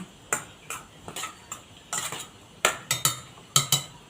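A utensil stirring ingredients through a pot of boiling pork broth, giving a dozen or so quick metallic clinks and scrapes against the pot in an uneven rhythm, close and clear, with no talking.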